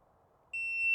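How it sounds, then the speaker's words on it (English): A shot timer's electronic buzzer at a pistol shooting drill starts abruptly halfway through and holds a loud, steady, shrill tone to the end, with no shot or voice heard. "you're only gonna fire after each buzzer"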